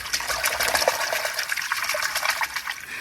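Water splashes and swishes continuously at close range as muddy foraged swamp plants are rinsed in a shallow creek, a steady wet churning with no talk.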